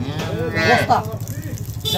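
A dairy cow in a village farmyard lets out a low, close moo, with a person speaking faintly in the background.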